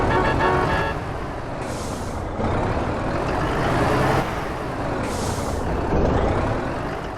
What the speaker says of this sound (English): there's air brake sound, which adds that typical sneeze sound when releasing the brakes on trucks and buses